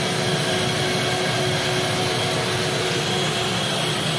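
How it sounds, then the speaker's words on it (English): A Rotovac carpet cleaning machine runs its self-cleaning cycle, flushing out its pump with a steady, loud, unbroken whooshing roar and a faint constant whine, with no talking. "your machine is self-cleaning and cleaning out your pump, cleaning out the machine"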